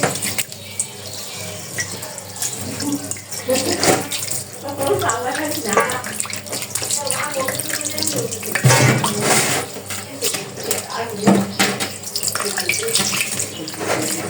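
Water runs steadily from a tap into a bowl to soak it, a continuous close splashing gush that fills the whole stretch.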